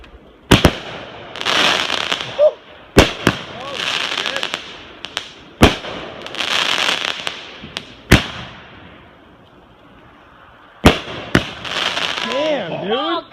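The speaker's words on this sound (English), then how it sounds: "Those are some fireworks." July Fourth fireworks explode outdoors in loud, sharp bangs spread irregularly across the stretch, with crackling tails between blasts, while excited people cheer and talk throughout.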